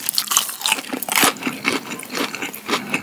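Close, loud crunching and chewing of a crunchy caramel ball snack, with dense, irregular crackly bites repeating throughout and no talking.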